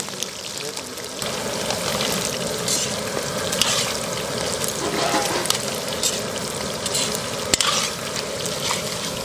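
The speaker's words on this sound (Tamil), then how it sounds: "இப்போ காடையை ஆயிலில் ஃப்ரை பண்ண போகிறோம்." Quail pieces fry in hot oil in a pan with a continuous crackling sizzle, stirred now and then, loud and close throughout.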